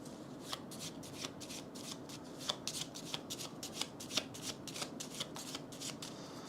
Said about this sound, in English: We are going to shuffle our deck.